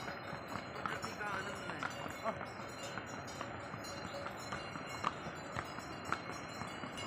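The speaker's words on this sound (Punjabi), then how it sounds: "ਉਹ ਦੇਖੋ ਪੁਲ ਦੇ ਉੱਪਰ ਵੀ ਘੋੜੇ ਜਾ ਰਹੇ ਆ" Horses walking on a bridge along the mountain trail from Gobind Ghat toward Hemkunt Sahib, their hooves clip-clopping in a steady uneven rhythm of sharp knocks at moderate distance, with some ambient outdoor noise.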